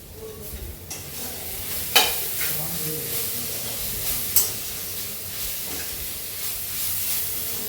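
A home-cooked vegetable curry simmers on a low flame with a soft continuous sizzle and hiss, punctuated by a few sharp clinks of a spoon against the pan.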